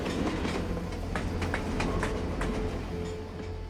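A train rolls along rails during a stunt shoot for Breaking Bad, giving a continuous close rumble with regular metallic clacks of wheels over rail joints repeating every fraction of a second, with no voices.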